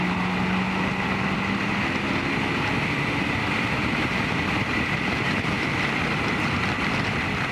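A 2022 BMW K1600GT motorcycle accelerates from 72 mph in sixth gear, its engine a steady, loud droning hum under heavy rushing wind noise that stays constant throughout.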